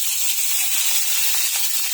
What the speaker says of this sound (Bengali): এই শুটকিটা আমি ভেজে নেব